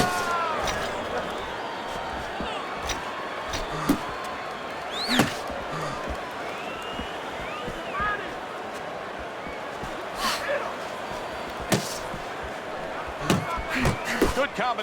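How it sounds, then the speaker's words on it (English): Punches land in the boxing video game Fight Night Champion, with Mike Tyson facing Anthony Joshua: sharp, scattered impact thuds in quick one-two bursts beneath steady commentary and crowd noise. "Good combination on the 1-2 by Mike Tyson."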